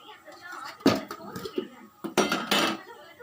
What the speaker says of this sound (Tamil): இப்போ நான் குக்கரை இறக்கிடுறேன் கீழே. இப்போ நான் வந்து கடாய் வச்சுட்டேன் மேலே.